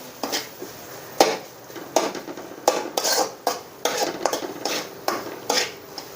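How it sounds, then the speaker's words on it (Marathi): Spices being stirred and fried in oil in a pan for a Marathi spicy bhaji curry, with repeated sharp scraping clinks of a spoon against metal at an irregular rhythm over a soft steady background. "चांगलं मसाला तेलात असं परतून घ्यायचा."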